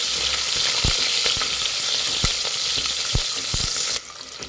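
Sliced onions with fennel seeds and cinnamon fry in a pan for plain pulao, a strong continuous close sizzle punctuated by several sharp stirring clicks.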